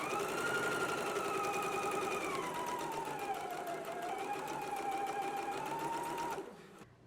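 A sewing machine runs continuously, stitching binding in place on a pullover dress, a fast steady whirring hum at close range that stops abruptly near the end.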